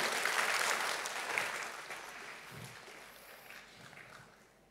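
Audience applause at an Indonesian formal event, welcoming the Secretary General of the Ministry of Energy and Mineral Resources: steady clapping from a crowd, loud at first and gradually fading over several seconds.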